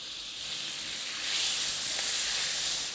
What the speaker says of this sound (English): Now I will cook the fillet tenderloin